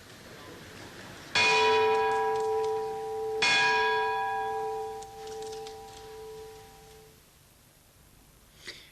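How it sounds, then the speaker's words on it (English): The Lutine bell at Lloyd's of London is struck twice, each loud clear ring followed by a long, slowly fading resonant hum inside the hall. "And this evening, at Lloyds, they were ringing the routine bell."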